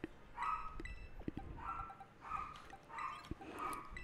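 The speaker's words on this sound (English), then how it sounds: "They just bark all day like this." Dogs barking in a game, repeated sharp barks in four evenly spaced bursts, fairly faint, with small clicks between them.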